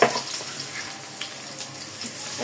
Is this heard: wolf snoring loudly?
no